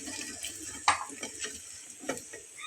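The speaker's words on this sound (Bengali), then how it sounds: "তো দেখুন এগুলো একদম ডিপ ফ্রাই করে নেওয়া হয়ে গেছে। এখন আমি তুলে ফেলবো।" Crispy mashed-potato bites lifted from deep-frying oil, with a steady soft sizzle and a few sharp clinks and scrapes of a utensil against the pan, close by and without talk.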